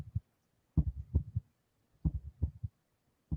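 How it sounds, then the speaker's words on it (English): A heartbeat thumps in clear lub-dub pairs, deep and muffled, with short silent gaps between the beats and no voices. "It's like a heartbeat."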